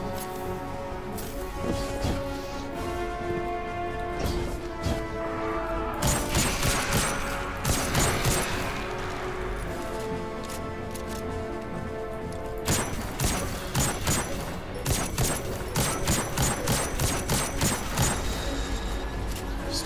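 Rapid gunfire bursts in the shooter game Destiny 2, dense clusters of loud shots between pauses, layered over game effects and a music-like tonal background.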